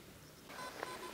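A metal detector sounds a short electronic signal tone while sweeping the sand on a Baltic beach at Stegna, a faint steady beep that rises after a quiet start with a brief sharper blip, alone without talk.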